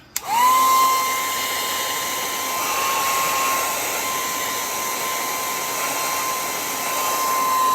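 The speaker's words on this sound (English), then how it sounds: "now I'm gonna annoy you with the blow dryer again" A blow dryer switches on and runs with a steady, loud whirring hum and airy hiss, continuous throughout without any talking.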